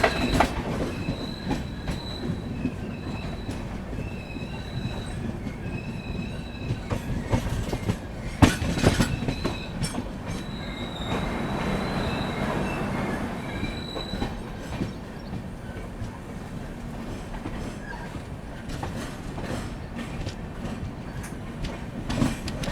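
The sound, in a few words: Trivandrum Rajdhani Express train running, approaching Madgaon Junction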